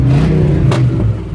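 GMT 400 pickup truck engine revving up close, a loud, rough mid-range roar that holds steady with a brief sharper burst partway through.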